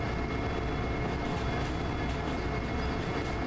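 A train rolls steadily along the track in the railway simulator game Derail Valley, a continuous dense rumble with rail clatter throughout, loud and unbroken, with no talking.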